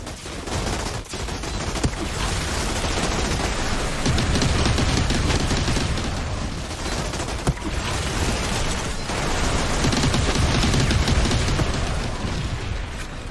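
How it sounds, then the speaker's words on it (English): Pain Launcher missiles from the Technomancer in Outriders pound an area in a dense, continuous barrage of loud booms and blasts, with sharp impacts punctuating the roaring fire throughout. "Place a missile launcher and bomb the area in front of you."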